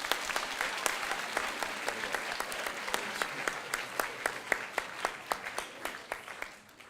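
An audience at a school opening assembly claps steadily for about seven seconds, a dense patter of many hands with sharper individual claps standing out, fading slightly at the end.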